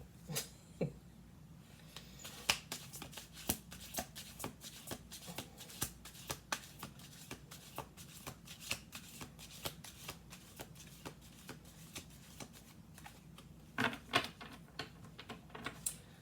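A deck of tarot cards is shuffled close by in a quiet room, with soft, rapid riffling and flicking that comes in uneven bursts and a few sharper card snaps.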